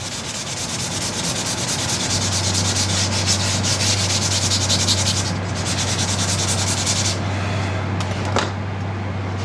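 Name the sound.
sanding wood on a bow limb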